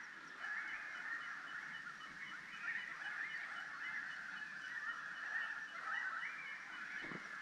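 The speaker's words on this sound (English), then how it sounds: "Just listen to those carry-on birds in the background." Many geese honk continuously at a distance by Lake Cobbler in Victoria's High Country, a busy overlapping chorus of calls with no voices.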